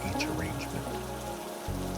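Gentle rain falls steadily at a night lantern market, a soft continuous patter without a break, with a low hum underneath.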